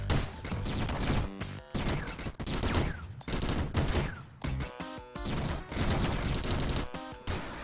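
Rapid bursts of gunfire and crashing impacts from the Downwell video game, dense and loud, coming in clustered volleys with brief gaps between them and no talking.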